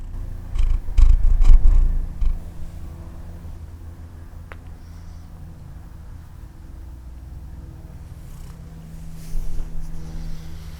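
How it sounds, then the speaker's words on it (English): A cat purrs up close in a low, steady rumble, loudest at the start and then settling into a soft, continuous purr with no talking. "My cat's here, coming to say hello and to interrupt the story."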